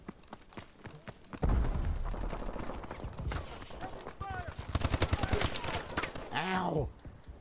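Gunfire in the Call of Duty Advanced Warfare video game, rapid bursts of shots and impacts over several seconds, mixed with a voice speaking and game effects near the end.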